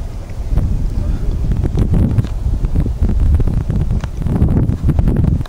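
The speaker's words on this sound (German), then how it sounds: "Oh, jetzt kommt der Wind wieder rein." Wind gusting across the exposed Schnarcherklippen granite crags near Schierke in the snowy Harz mountains, a loud, continuous rushing buffet against the microphone that swells in waves throughout.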